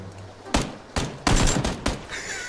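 Gunfire in a video game comes as a few sharp bursts of shots over about two seconds, loud and close, with a quieter electronic tone trailing at the end.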